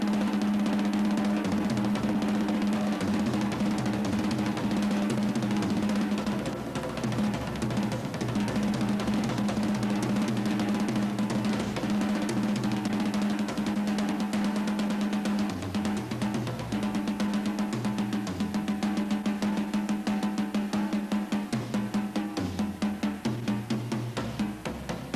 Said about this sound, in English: You can actually play paradiddles on the drum set